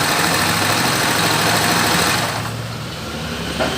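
A Honda YBR 125 motorcycle from 2000/01, with a weak ignition spark, runs at a loud, steady close-range engine drone that eases slightly in the last second, with no talking.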